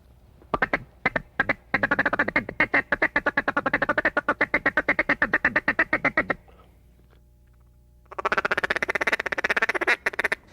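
Rapid, rhythmic chattering clucks from a duck call imitate a mallard's feeding chuckle, a long rolling burst, a pause, then another quick run.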